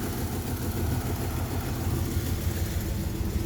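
A 1996 Pontiac Firebird Formula V8 with a 6-speed idles steadily while warming up, a deep, even rumble with a slight lope, close and continuous, with no talking over it.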